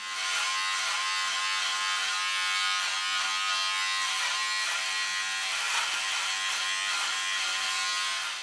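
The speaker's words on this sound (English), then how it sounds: "trying the Norelco trimmer out at the shortest setting" Norelco Perfect Beard QT4000 beard trimmer running at its shortest stubble setting, a loud, steady electric buzz that holds for the whole stretch with slight wavering as it moves through hair.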